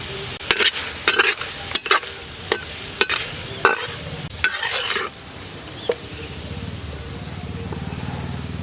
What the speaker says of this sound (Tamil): அப்படியே அந்த மசாலாவில் நல்லா அப்படி திருப்பி திருப்பி வச்சுக்கிடுவோம்